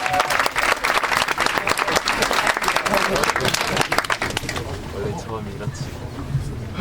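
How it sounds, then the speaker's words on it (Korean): An audience at a school humanities lecture opening claps loudly to welcome the principal, dense applause that fades after about four seconds into quieter room sound. "모두 교장 선생님을 큰 박수로 맞아주시기 바랍니다"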